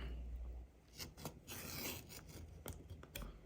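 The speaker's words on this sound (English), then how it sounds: "I use my little scratch awl. It should mark the leather on the other side." A small scratch awl drags across leather, scoring a line in short dry scraping strokes, several quick rubs in a row, close and quiet.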